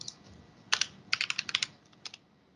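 Quiet keystrokes on a computer keyboard, a short run of about a dozen crisp clicks in small bursts, heard close against faint room hiss with no talking.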